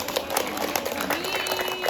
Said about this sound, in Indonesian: Tepuk tangan buat anak kita.